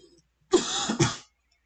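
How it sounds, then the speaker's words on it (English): A single person coughs twice in quick succession, close to the microphone, a harsh burst followed by a second shorter one, with silence before and after. "You heard me coughing."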